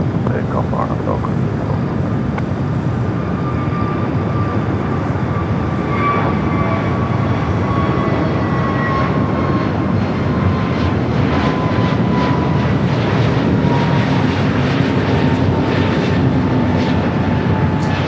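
A Swiss heavy airliner takes off from runway 25 right at Los Angeles LAX on a gloomy June day, its jet engines giving a steady loud roar with rising whine tones over the whole stretch, while a voice talks over it.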